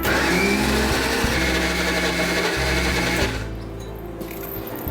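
A mixer grinder blends chammanthi podi, a chutney powder, with raw chopped shallots, giving a loud steady motor whir for over three seconds before dropping to a lower, quieter spin as it winds down.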